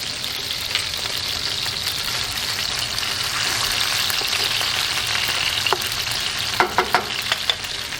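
Anchovies, garlic and hot pepper sizzle steadily in a pan, a constant hiss with a few sharper pops and stirring clicks near the end, no voices.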